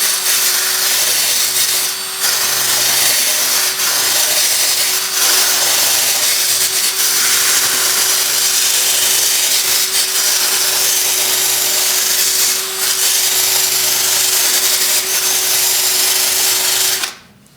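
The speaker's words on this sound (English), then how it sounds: "I find these wire brushes go through the styrofoam" A power-driven wire brush carves into styrofoam, making a loud continuous whirring, scraping hiss that holds steady for the whole stretch, close up, before cutting off abruptly at the end.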